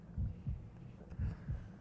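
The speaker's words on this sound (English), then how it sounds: "There's a little bit of a heartbeat." Heartbeat sound effect in the survival horror game Cold Fear: two pairs of deep, muffled lub-dub thumps in a steady slow rhythm over a low hum, quiet and close.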